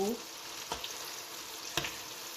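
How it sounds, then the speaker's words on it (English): Chin chin dough frying in a pot of hot oil gives a steady, close sizzling hiss, broken by a couple of soft knocks as pieces drop in. "I'm just going to put the chin chin inside the oil"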